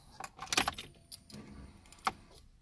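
Car keys jangling and clinking as they are inserted into the ignition of a Tofaş Doğan, a few close metallic rattles in bursts with a short jingle near the end, otherwise quiet.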